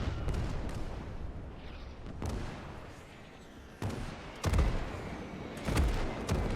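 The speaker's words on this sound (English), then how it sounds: "Yeah, that naval fire is incredibly effective" Naval gunfire shells exploding during a simulated 1945 Iwo Jima invasion in a video game, heard as a series of dull, moderately loud booms spaced a second or two apart over a constant low rumble.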